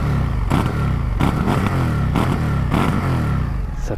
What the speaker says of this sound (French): Et l'échappement d'origine, bien chaud, voilà ce que ça donne.